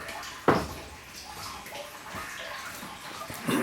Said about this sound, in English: We'll have to wait a few seconds for the splitter to be filled with the effluent, or water in this case.